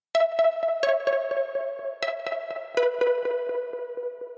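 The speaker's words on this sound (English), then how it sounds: "we got this sound called Pulse Thumper" A Pulse Thumper bass synth preset played a couple of octaves up so it sounds like a pluck: a quick rhythmic run of bright, sharply attacked notes with ringing tails, stepping through a few pitches, alone and clear.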